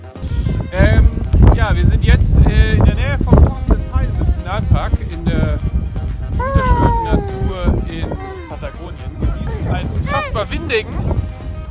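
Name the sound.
wind outdoors in Patagonia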